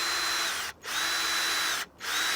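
A power drill drives screws through wooden pegs into raised bed boards, whining loudly in two bursts with brief pauses between.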